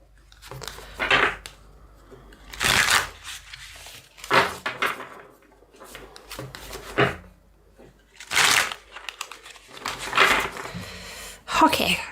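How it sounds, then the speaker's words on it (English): A Kyle Gray Divine Masters card deck is shuffled by hand close up in several bursts of riffling and sliding card sounds separated by quiet pauses. "let me just quickly shuffle this deck."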